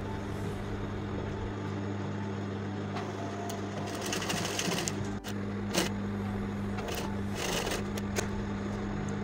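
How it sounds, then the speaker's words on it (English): A sewing machine stitches a collar around the neckline of an A-line gown, a fast steady whirring hum close by, with brief clicks and fabric handling noises midway. "So just go ahead and sew it around the neck."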